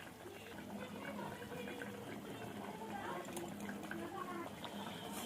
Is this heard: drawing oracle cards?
no